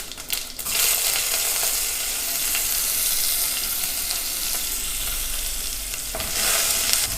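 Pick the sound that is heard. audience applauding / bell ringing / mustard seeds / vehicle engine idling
mustard seeds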